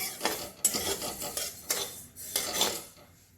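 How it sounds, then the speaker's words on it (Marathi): Sesame seeds roasting in a pan on medium gas, stirred in rhythmic scraping strokes that come in about five short bursts with brief pauses between, close and moderately loud, with no talking. "मिडियम गॅसवर आपल्याला तिळ भाजून घ्यायचे आहेत"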